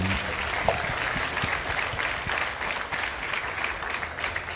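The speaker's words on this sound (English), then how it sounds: "let's give Tots a big round of applause" A crowd at a sales masterclass workshop and expo gives a round of applause, dense continuous clapping at a steady level for several seconds.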